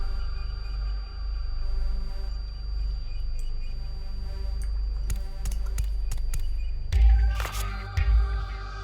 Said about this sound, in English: It's like weird humming noise coming from the game.